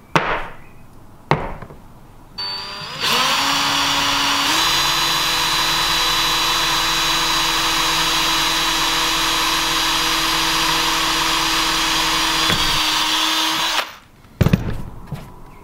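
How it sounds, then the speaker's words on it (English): A power drill with a sharp bit spins up and drills slowly through a car body panel on a Sierra Sapphire RS Cosworth, a loud steady whine lasting about ten seconds, bracketed by a few clicks and knocks. "With a nice sharp drill bit in the drill, I'm going to go nice and slow."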